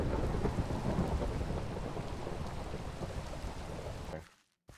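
Heavy rain falls with deep thunder rumbling in Minecraft, a dense continuous roar that stays loud and then drops away abruptly near the end.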